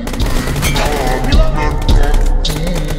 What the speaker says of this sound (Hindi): चार गोलियां मारी।